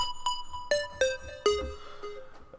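Plucked synth preset with a bright bell-like tone, a handful of separate notes struck at uneven intervals, each decaying with a short delay tail, played alone at moderate level in a synth and choir trap beat.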